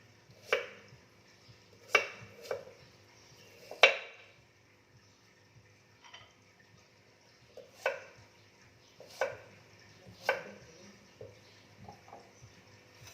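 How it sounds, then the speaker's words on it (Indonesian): Shallots are sliced with a knife on a board for a Dayak Ngaju sambal, giving about nine crisp, irregular chopping knocks in short clusters over a faint background hum, with no voices. "Bawang merah 7 butir tadi ya. Nih, 2 sudah diiris."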